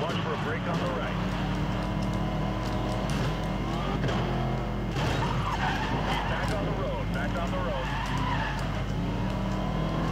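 A Ford GT race car in a racing video game, engine droning steadily while tires skid and squeal through corners, with a person talking over the continuous drive.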